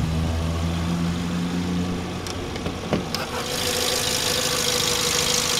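A car's 2.0-liter four-cylinder engine idles with a steady low hum and faint knock, followed by a brief rise in higher-pitched noise partway through.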